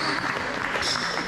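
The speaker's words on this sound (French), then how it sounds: "On peut applaudir aussi les jeunes" Applause from an audience at a youth basketball physical-training talk, a dense steady clatter of many hands filling the whole short moment, with a voice faintly mixed in.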